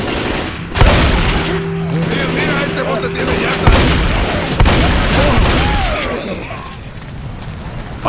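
Rapid gunfire bursts from weapons in the zombie shooter Left 4 Dead 2, loud and repeated in quick volleys with sharp booms, under a sustained tonal drone and busy game effects; voices chatter in the background.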